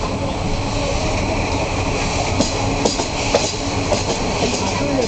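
The steam train Hefajstos rolls out of Wolsztyn station, a loud steady rumble of wheels with rhythmic clickety-clack over rail joints and occasional sharper knocks, without talk.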